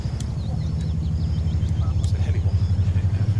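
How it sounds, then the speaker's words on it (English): A throbbing low engine rumble from an infantry truck in the military game Antistasi, steady and pulsing, growing slightly louder over a few seconds under a faint voice. "infantry truck spotted"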